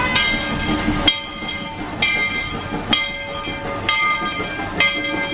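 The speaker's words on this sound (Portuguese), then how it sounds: "Esse é o trem das águas." Trem das Águas tourist train in São Lourenço, Minas Gerais, rolling past nearby with loud, regular wheel clacks roughly every second over a steady rumble and ringing tonal squeal, no talk.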